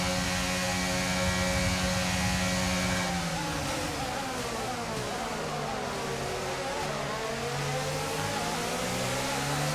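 A Formula 1 car engine in the racing game F1 22 roars continuously, its loud high-revving tone rising and falling with throttle and gear changes, with other cars' engine sounds layered around it.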